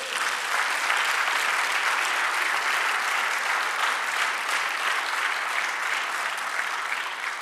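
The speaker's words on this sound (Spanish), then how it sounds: "Dale otro aplauso." A church congregation gives sustained, even applause during a sermon, a dense crowd of clapping hands holding steady throughout with no speech on top.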